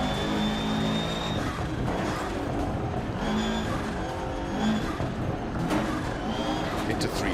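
A rally car engine drives hard in the video game Dirt Rally 2.0, a constant loud engine drone with shifting pitch and occasional tire noise, running without pause beneath a player talking.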